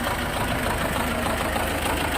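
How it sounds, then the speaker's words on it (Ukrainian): Small tractor engine working at full load with a trailer hitched while ploughing black soil for wheat, a loud, steady, close diesel drone with no pauses and no talking. "Так, тракторець на повному робочому ході"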